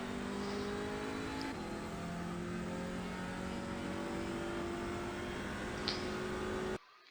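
An Audi TCR race car's engine under throttle in iRacing at the Nürburgring, droning steadily as revs climb in smooth, rising tones, with a brief gear-change break, before cutting off abruptly near the end.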